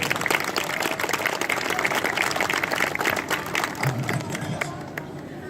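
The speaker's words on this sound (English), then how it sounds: "how about another big round of applause for Rachel?" Festival audience at Hammonassett Festival 2018 breaks into a big round of applause, dense steady clapping that carries across the whole moment with a murmur of crowd voices and thins slightly toward the end.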